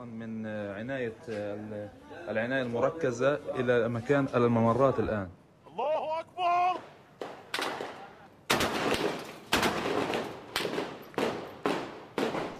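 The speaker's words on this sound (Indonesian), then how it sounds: "Brigade Al-Qassam merilis sebuah video yang disebut sebagai baku tembak dengan pasukan Israel di Beit Hanun di jalur Gaza Utara" A firefight in Beit Hanun, northern Gaza: a voice talks for several seconds, then loud, sharp gunshots ring out in rapid, close volleys of bursts.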